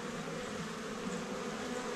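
Honey bees at a hive in an apiary on Réunion, a dense steady buzz of many insects filling the air close by, continuous and even with no voices.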